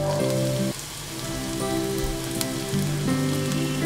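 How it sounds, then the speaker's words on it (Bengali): Grated carrot and chopped capsicum fry in hot oil, a steady close sizzle like rain on a surface that continues throughout, with no voices over it. "এবার এটা আমি খুব ভালো করে ভেজে নেব"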